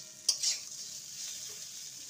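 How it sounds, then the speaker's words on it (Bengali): Bitter gourd, pumpkin and potato frying with poppy seeds in a pan, a faint steady sizzle with a brief spatula scrape near the start, no voices. "2 মিনিট আমি ভেজে নেব।"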